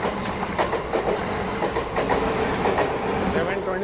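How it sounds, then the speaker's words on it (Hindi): Amrit Bharat Express train held short of Thiruvananthapuram Central on a Kerala coastal route, its wheels clattering in loud, uneven rhythmic clacks over a dense steady rumble, heard from inside the coach. "ट्रैक साउंड क्या ज़बरदस्त आ रहा है"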